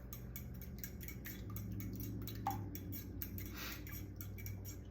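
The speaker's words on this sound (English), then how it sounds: "And then I'm going to stir them up." Eggs being stirred in a bowl, heard as quiet, rapid utensil clicks and ticks against the side, repeating steadily at a faint level close by.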